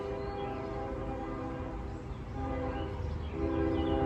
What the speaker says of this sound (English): It sounds like that train is going northbound.